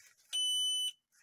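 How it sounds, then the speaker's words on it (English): A New Holland LM5 25 forklift's dashboard display gives one steady electronic beep of about half a second as the key is turned, loud and close, with brief faint noise around it. "if I turn key once, this should all light up. It'll beep"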